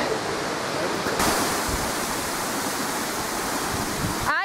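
A waterfall on a walking path in Wales roars as a steady, loud rush of falling water, with faint handling noise near the end.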